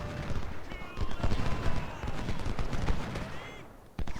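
Musket volley fire in the Civil War video game Ultimate General, with a dense rolling crackle of many shots that swells and holds throughout, then a final sharp report near the end.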